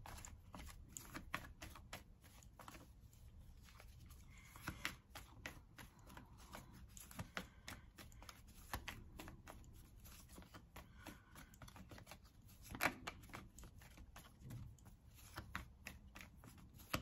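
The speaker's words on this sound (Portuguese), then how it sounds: "Agora a gente vai embaralhar, pode ser que a carta venha novamente" Tarot cards shuffled by hand close up, a soft continuous riffling and flicking with a few sharper snaps, quiet and without talk.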